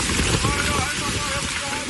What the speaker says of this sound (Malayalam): കാറ്റിനും മിനിറ്റുകൾ നീണ്ട കനത്ത മഴയ്ക്കും